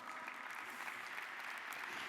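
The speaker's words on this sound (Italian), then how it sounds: "un applauso" Steady, continuous applause from a conference audience at a health forum opening day, dense and even throughout with no pauses or voices over it.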